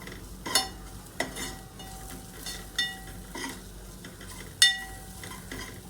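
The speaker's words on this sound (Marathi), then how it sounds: "तर आता आपण याला व्यवस्थित मिक्स करून घेऊया सगळ्या मसाल्यांना" A spoon stirs goda masala spices in a sizzling pan, several distinct scraping knocks against the metal over a soft steady sizzle.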